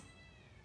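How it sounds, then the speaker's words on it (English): Cats meow and caterwaul while fighting outdoors on a roof, a brief, steady yowling cry, faint and distant. "there are cats fighting on the roof, in the trees"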